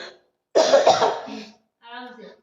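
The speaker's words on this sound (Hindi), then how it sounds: "मुझे थोड़ा खांसी का भी प्रॉब्लम है" A woman gives a single harsh, close cough, with brief voiced sounds just before and after it.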